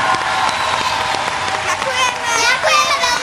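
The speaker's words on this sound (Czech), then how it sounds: "ten potlesk obrovský patří i jim" Big audience applause at a televised talent show, steady loud clapping with cheering and children's voices mixed in throughout.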